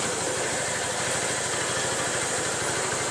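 A motorcycle engine idles steadily with a rapid, even low throb, its rear wheel set up for shelling corn; the sound is continuous and fairly close, with no talking.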